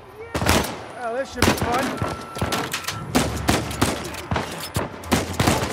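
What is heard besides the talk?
gunfire in the video game Uncharted 4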